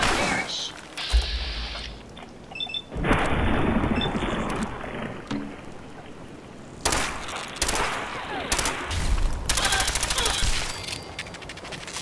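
Rapid bursts of Fallout 4 gunfire from a gun firing exploding rounds crackle with explosive impacts, interrupted by brief pauses and shifts in intensity, loud and close.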